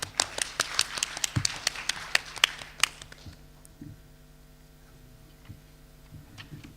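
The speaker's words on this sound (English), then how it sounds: "A round of applause, please." Applause from an audience at a game pitch event is a brisk burst of many hands clapping for about three seconds. It then fades out, leaving a quiet room with a few scattered taps.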